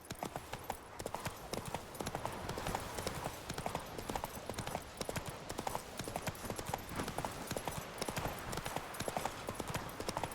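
Roach, the horse in The Witcher 3, gallops with rapid, rhythmic hoof clip-clops beating steadily and fairly close, with no voices over the hoofbeats.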